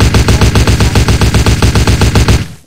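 An Uzi fires in the CrimeLife 3 video game in a sustained, loud automatic burst. The shots come in a fast, even rhythm for more than two seconds, then stop abruptly with a short tail.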